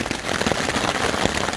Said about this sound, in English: It has been raining all night long.